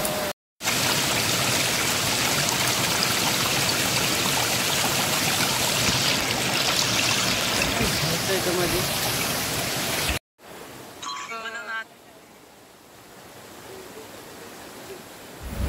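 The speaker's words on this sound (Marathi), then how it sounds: "हा त्या नदीचा प्रवाह आहे. बघा किती पाणी फास्ट चाललं आहे." A fast-flowing river in a Konkan village rushes loud and steady close by, a dense continuous roar that breaks off briefly before quieter flowing water continues.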